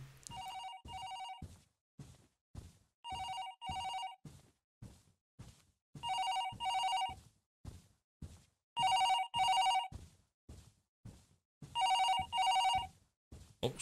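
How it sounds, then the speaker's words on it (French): A telephone rings in a video game, a repeated electronic double-burst trill in evenly spaced pairs, clear and close, with quiet gaps between rings and no talk. "Je crois que c'est le téléphone de Cathy qui sonne."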